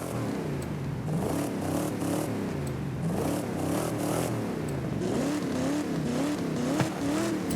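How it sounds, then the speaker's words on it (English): A tuned car's exhaust roars as it revs in Forza Horizon 5. The engine tone is loud and continuous and rises and falls in repeated waves of acceleration, with no voice over it. "Look at that exhaust sounding sweet."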